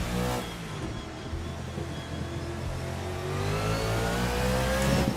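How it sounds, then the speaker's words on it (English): A motorsport car with a big V8 engine revs on track, heard from onboard as a loud, continuous roar that climbs steadily in pitch over several seconds. "As you're able to hear, it has a big V8 engine."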